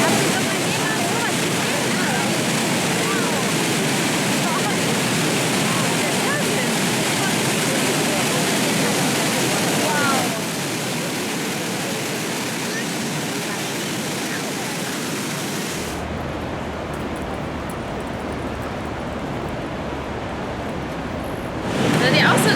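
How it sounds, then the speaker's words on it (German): The thundering water of Iguazú Falls at the Devil's Throat, a dense, loud, continuous roar like heavy surf that fills the whole stretch, with the sound shifting character partway through as people talk over it. "In Wahrheit ist es das Donnern von 2 Millionen Litern Wasser pro Sekunde, die hier runterstürzen."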